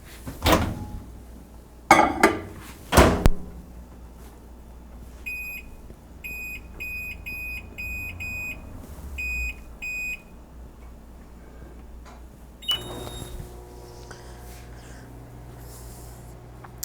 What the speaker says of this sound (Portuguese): Vou colocar agora no micro-ondas 30 segundos.